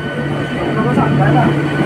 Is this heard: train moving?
yes